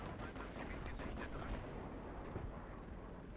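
Dense, continuous crackle of rapid gunfire and explosions fills the clip, a busy Battlefield 3 multiplayer battle din with faint voices underneath.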